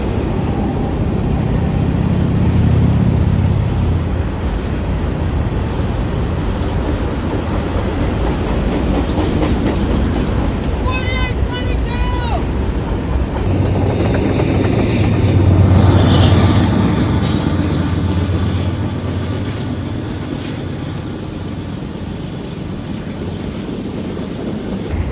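A train rolls through Altoona, loud and close, with a continuous heavy rumble, rhythmic clickety-clack of wheels over rail joints, a burst of metallic squealing midway, and the roar swelling again before easing off.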